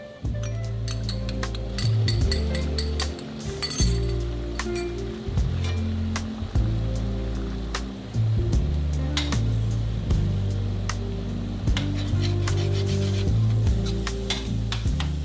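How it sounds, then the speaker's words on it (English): Egg whites stir-fried in oil in a wok for fried rice, heard as crackling sizzle under a recurring low rumble, likely the burner, with intermittent metallic clinks and scrapes of a spatula against the wok. "add a little bit more oil and stir fry the egg whites until just cooked"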